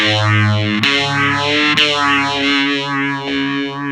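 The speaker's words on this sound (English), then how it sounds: "which is like the fuzz with the phaser" A sustained fuzz-distorted guitar note with a sweeping phaser, its swirling whoosh rising and falling in slow repeated waves, with a couple of picked changes along the way.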